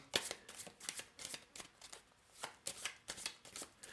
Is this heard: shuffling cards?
yes